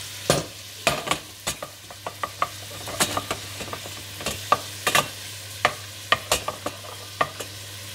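Onions sweat gently in a pan with a drop of lemon on low heat. A soft sizzle runs underneath while a spoon stirs and scrapes the pan in sharp, irregular clacks.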